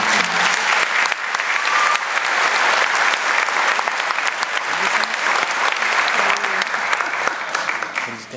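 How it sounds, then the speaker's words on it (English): An audience at a Calvine High School graduation ceremony in Elk Grove breaks into loud, sustained applause, thick and continuous throughout, with faint crowd murmur beneath. "let's give a round of applause for all of them."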